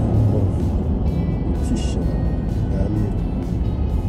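Cadillac Escalade engine revving under acceleration with turbo noise, a steady loud low rumble building throughout, while people talk inside the cabin.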